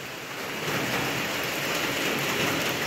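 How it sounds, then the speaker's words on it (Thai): Heavy rain pours down before dawn, a dense, continuous hiss of drops drumming on surfaces that stays loud and even throughout. "ทำไมฝนมันตกอย่างนี้"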